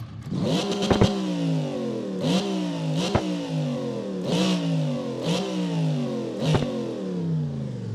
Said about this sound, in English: listen to the engine, by the way, the pure V8.